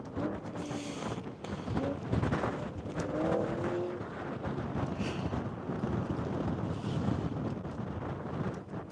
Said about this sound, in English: I'm not quite sure what's louder on that car right now. The engine, the exhaust, or the wheel brake